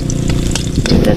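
Ginger sizzles and crackles as it fries in a pan, a steady close hiss with small pops and a few stirring scrapes, no talking over it.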